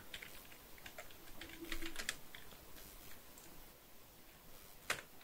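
A computer keyboard clatters softly with irregular keystrokes while a LinkedIn post is typed, close but faint in a quiet room.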